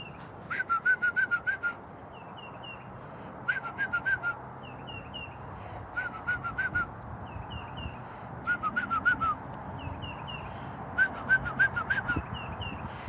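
A person whistles short trilling bird calls in repeated bursts, imitating birdsong, with steady outdoor ambience between them.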